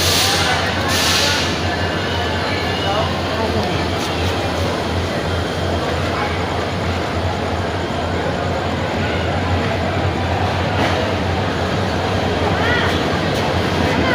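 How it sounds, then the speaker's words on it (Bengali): A steady, heavy rumble of a passenger train arriving at a crowded station in Bangladesh, with a continuous roar and a few sharp clanks over it. "ওই দেখুন সামনে একটা ট্রেন এসে পড়েছে।"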